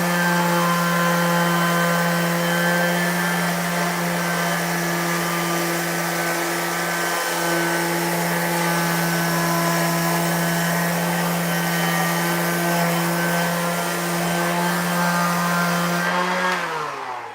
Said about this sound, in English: it's a pretty sweet little sander, and it's cordless